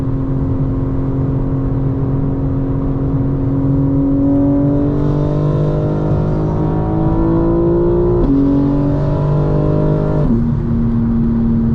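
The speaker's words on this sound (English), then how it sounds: "Here I'm braking as I'm downshifting because just downshifting would not be enough." A 2025 BMW M4 Competition xDrive engine droning steadily from inside the car while braking and downshifting, with pitch shifting in steps as gears change, loud and continuous with no talk.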